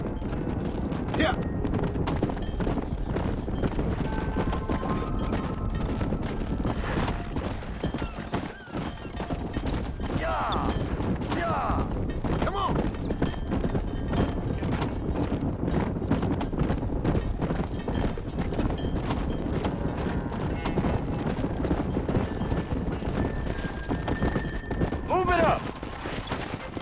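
Horse hooves clip-clop in a steady rapid gallop throughout a ride in Red Dead Redemption, close and continuous, with brief whinnies, distant gunfire, and voices talking now and then over the hoofbeats.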